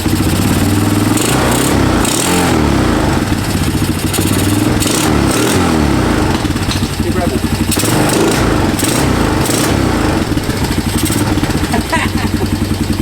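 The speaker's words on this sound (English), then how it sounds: "It's idling now." A 1997 Honda Recon 250 ATV, revived after sitting outside for 15 years and fitted with a Chinese carburetor, runs loud and close with a rough, uneven idle, under people talking.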